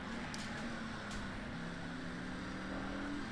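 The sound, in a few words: race car engine in the video game Race Driver GRID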